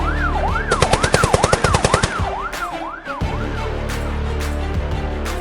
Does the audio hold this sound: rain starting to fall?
no